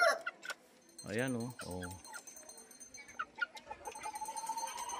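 Chickens at a game farm give a couple of short clucking calls amid scattered bird chirps outdoors, while someone speaks briefly nearby.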